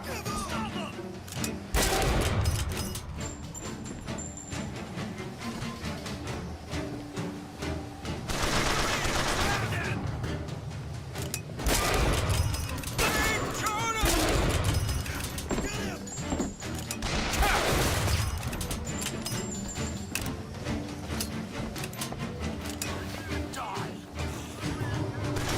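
Repeated bursts of gunfire and crashing impacts from the BioShock Infinite video game, loud volleys recurring throughout with game sounds between them and speech mixed in.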